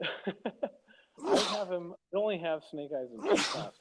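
Two sharp, breathy sneezes burst out amid a casual conversation between people talking about toy action figures, close and loud against their voices.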